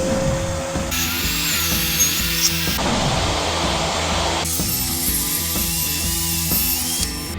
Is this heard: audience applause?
no